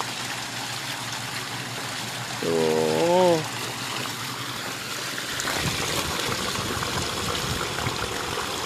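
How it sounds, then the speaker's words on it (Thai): Water flowing in a natural stream runs steadily throughout as a broadband wash, with a brief harmonic voice near the middle and people talking over it. "น้ำนี่เป็นน้ำจากลำธารด้วยนะไม่ใช่น้ำประปานะฮะ"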